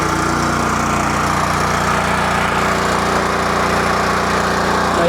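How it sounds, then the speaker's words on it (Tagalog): A portable generator runs loudly on a stainless sliding gate railing job site, giving a steady, dense engine drone that holds constant and close throughout with no pauses. "Tapos yung generator po ito na."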